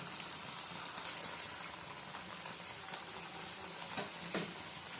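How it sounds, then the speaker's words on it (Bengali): Egg and paneer mughlai paratha frying in hot oil, a soft, steady crackling sizzle with scattered pops, close and fairly quiet, with no voices. "আমি যে মোগলাইটা রেডি করে রেখেছিলাম আস্তে করে তেলের মধ্যে দিয়ে দিলাম"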